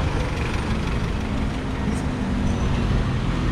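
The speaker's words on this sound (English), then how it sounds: "I actually love watching the ebb and flow of traffic in this place." Steady street traffic in Cebu City, Philippines: a dense, continuous rumble of cars, buses and trucks nearby, with no distinct pauses.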